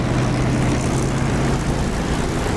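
A La-7 propeller fighter engine in the DCS flight simulator drones steadily, a loud, dense roar with a low throbbing hum that holds constant throughout.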